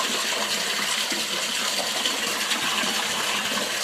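Water runs steadily into a home water tank, a dense constant gushing hiss that stays close and even throughout without pause.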